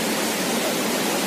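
Water gushing from a burst pipe of the Nippon hydropower project onto a road, a steady, loud, broadband roar with no breaks and no voices.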